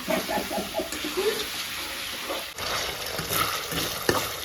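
Chicken stir-frying in a pan, with a steady close sizzle under scraping stirs of the spatula and a brief sharp knock near the end, no talk.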